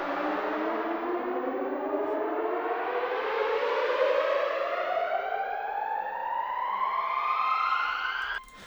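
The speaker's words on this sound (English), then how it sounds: "Another pitch riser, some movement." Long rising pitch riser building up in a progressive house track, layered synth tones sweeping steadily upward for several seconds with no voices, loud and continuous until it cuts off at the end.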